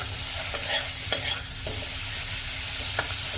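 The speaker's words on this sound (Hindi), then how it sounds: "इसे भी मिक्स कर लेंगे प्याज में अच्छे से" Chopped tomato being stirred into onions frying in a pan, with a continuous sizzle and several scraping strokes of the spoon close up.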